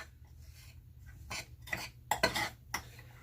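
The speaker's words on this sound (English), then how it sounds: "And then I'm going to start kind of mixing this together." Honey, sugar and coconut oil being mixed in a bowl for a lip scrub: a handful of brief scraping, clinking utensil strokes against the bowl, close and fairly quiet, spaced irregularly with short pauses between.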